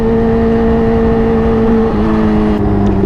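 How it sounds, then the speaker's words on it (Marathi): A Kawasaki Ninja H2 superbike rides through night traffic in second or third gear, its loud, close engine droning in a steady hum that dips slightly in pitch partway through. "दुसऱ्या तिसऱ्या वरती आरामात पळते बाईक"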